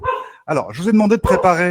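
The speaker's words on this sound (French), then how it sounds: "C'est un chien. Voilà, c'est mon chien qui passe." A dog barks briefly on a game show set while someone talks loudly over it, the bark mostly buried under his voice.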